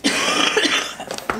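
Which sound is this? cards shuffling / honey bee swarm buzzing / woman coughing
woman coughing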